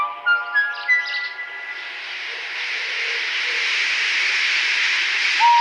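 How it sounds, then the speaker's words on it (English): A steam locomotive getting up steam: a steam whistle sounds briefly, then a steady loud hiss of escaping steam builds and holds, ending with a short high whistle note. "When Henry had got up steam, he puffed out."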